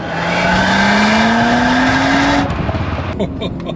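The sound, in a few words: tuned Audi RS5 car accelerating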